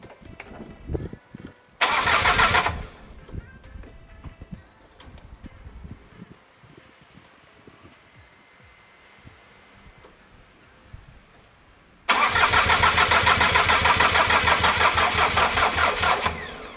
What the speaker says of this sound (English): I'm going to try starting the engine for the very first time.